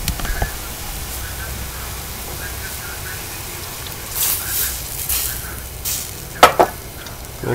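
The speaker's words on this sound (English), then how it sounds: "now I'm going to add the mushroom soaking liquid from the dried porcinis" Soaking liquid from dried porcini mushrooms is poured into a hot pan of browned mushrooms, a steady sizzle swelling into brief hissing surges as the liquid hits the metal.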